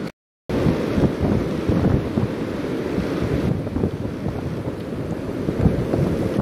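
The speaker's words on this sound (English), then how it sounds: "See how strong the winds are." Strong wind roars steadily across open ice, driving blowing snow in a loud, continuous gusting rush after a brief silent start.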